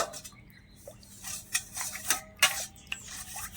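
A spoon stirs half a tablespoon of slaked betel-leaf lime into water in a bowl, with close, intermittent clinks and scrapes against the bowl over a quiet background and no voices.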